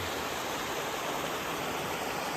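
Mountain creek in Monk's Valley flowing steadily, a dense, even rush of water that stays close and constant throughout with no voices.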